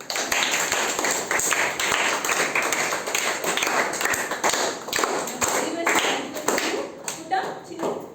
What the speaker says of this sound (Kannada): ನಿಮ್ಮೆಲ್ಲರಿಗೋಸ್ಕರ ಚೌ ಜೋರ ಚಪ್ಪಾಳೆ ಹಾಕಿ